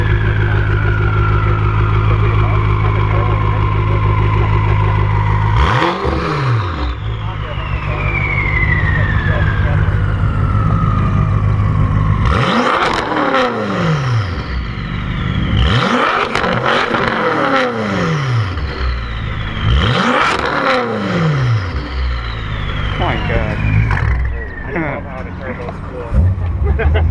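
A Toyota Supra at a car meet revs hard several times, loud and close, with sweeping engine pitch rising and falling over a busy outdoor background and voices.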